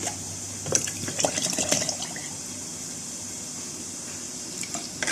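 Water splashes and trickles in short bursts, as if poured into a container, over a steady background hiss.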